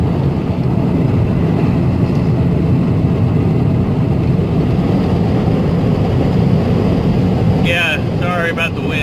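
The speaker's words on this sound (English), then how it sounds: "sorry about the wind." Strong outdoor wind buffets the microphone. It makes a loud, continuous low rumble and roar that never lets up, with a brief burst of higher noise near the end.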